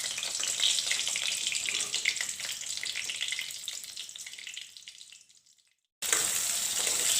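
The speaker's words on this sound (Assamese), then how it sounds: "আৰু এইখিনি ভাজা হোৱাৰ পাছত মই এনেদৰে বইল কৰি থোৱা আলুখিনিও ভাজি লম।" Boiled potatoes frying in a pan of hot oil, a steady loud sizzle that fades away toward the end, then a brief silence before the sizzling returns at full strength.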